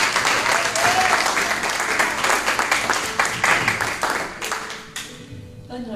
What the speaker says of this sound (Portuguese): Você pode aplaudir a Jesus pela vida da Márcia?